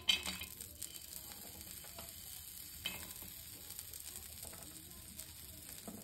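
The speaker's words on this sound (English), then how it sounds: "I really enjoy the sizzling sound which it makes." Cashew nuts sizzle steadily in a frying pan with red chilies, a constant crackling hiss with a few sharper pops, nearby and moderately quiet.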